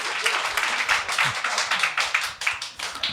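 A small group of people clapping in a podcast studio, brisk uneven hand claps close by, loud and sharp, with a few voices briefly mixed in.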